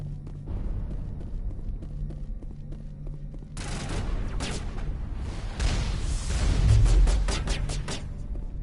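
Video game gunfire bursts in rapid, loud rattling volleys after a quieter stretch, with repeated sharp shots clustering toward the end over a low rumbling background.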